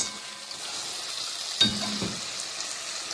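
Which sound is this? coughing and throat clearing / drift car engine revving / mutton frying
mutton frying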